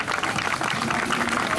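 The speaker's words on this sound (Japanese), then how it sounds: "もう一回拍手をお願いします" Applause from an audience at an anti-nuclear rally concert in Shibuya, a dense continuous patter of many hands clapping throughout, alone with no talk.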